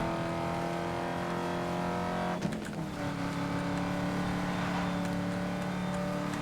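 A car in Need for Speed: Most Wanted (2012) drives fast with a steady, droning engine hum that holds a constant pitch throughout. A brief scrape or bump breaks in partway through, and then the engine carries on evenly.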